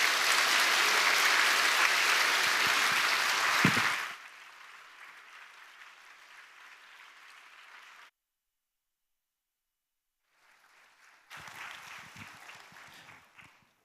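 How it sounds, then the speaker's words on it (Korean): A church congregation at a Sunday service applauds a departing choir conductor, a full dense burst of clapping that fades to a quieter patter, then silence, then another smaller round of clapping. "우리 한번 박수 주시면 고맙겠습니다"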